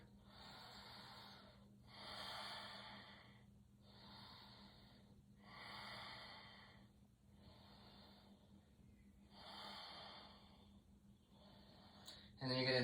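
Slow, audible breaths drawn in and pushed out during a seated yoga twist, about three or four long inhale-exhale cycles with soft pauses between them, close and steady, ending with a brief louder rustle.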